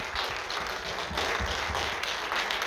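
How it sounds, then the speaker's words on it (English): Audience applause at a short film festival screening in a theater, dense steady clapping from a crowd filling the whole stretch, fairly distant and even. "Give them a round of applause for the wonderful films."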